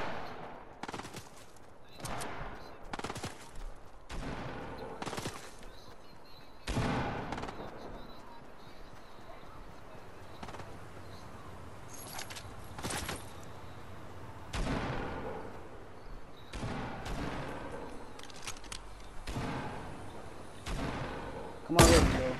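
Sharp gunshots crack in the video game Fortnite: a long run of separate broadband blasts, some rapid and some spaced seconds apart, over a quiet background with faint occasional voices.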